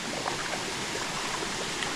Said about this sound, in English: Wasn't it just totally unbelievably cool waterfall?